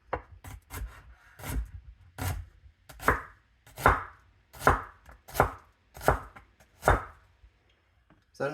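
A knife chops a quarter of an onion on a wooden board, about a dozen close, crisp thuds in an uneven rhythm with short pauses between strokes.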